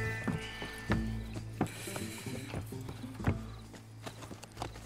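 Horse hooves clip-clop in Red Dead Redemption 2, sharp hoof strikes in an uneven trotting rhythm, mixed with creaking and rattling mechanical sounds and a low rumble beneath, fairly close and loud.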